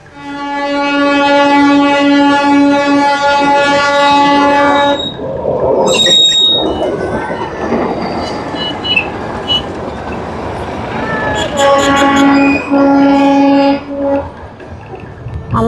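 A narrow-gauge toy train's horn blares long and loud near Darjeeling, gives way to rumbling and clatter as it passes, then sounds again near the end.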